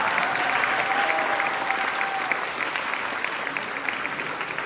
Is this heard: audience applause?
yes